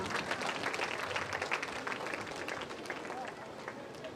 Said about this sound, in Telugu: అందరూ చప్పట్లతో వాళ్ళని ఆహ్వానించండి